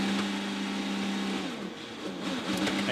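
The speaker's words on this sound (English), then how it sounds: "you hear him pin the throttle just to make sure that he doesn't stall the car as he's going backwards" An IndyCar race car engine at the 2014 Honda Indy Toronto, held at full throttle while the car spins backwards: a loud, sustained whining roar with pitch wavering and dipping, then climbing again, no voices over it.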